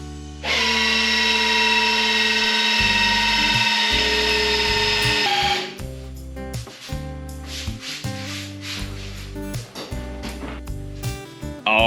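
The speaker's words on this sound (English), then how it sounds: "I ran the drill for a couple minutes." A power drill spins a priming tool to prime the oil pump of a Chevy big block engine, a loud steady whine with a tonal hum for several seconds, then stops and gives way to intermittent clunks and rattling.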